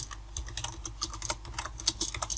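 Rapid, light clicking of a computer keyboard as a comment is typed into Google Classroom, close and fairly quiet, with irregular keystroke bursts and no talking.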